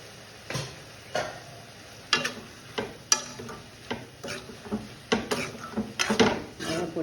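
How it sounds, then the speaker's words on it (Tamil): Broad beans being sautéed with chili powder in a pan, with repeated scraping and stirring strokes and a faint sizzle, close and moderately loud, each stroke separated by brief pauses. "இப்போது மிளகாய் பொடி போட போகிறேன்."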